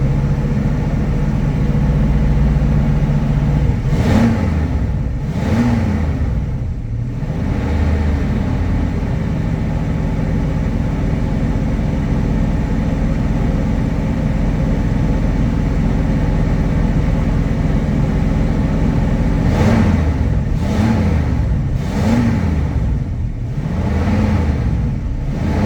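A hot rod's engine at a stop on the Hot Rod Power Tour in Joliet, Illinois, rumbling loudly and steadily up close, with a couple of throttle blips early on and a cluster of sharp revs near the end.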